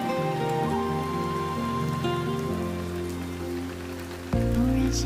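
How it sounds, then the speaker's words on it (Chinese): Steady rain falls on a surface during an outdoor period-drama scene, a continuous close hiss carrying on throughout beneath a sustained musical score. "我也没有想到会下雨啊"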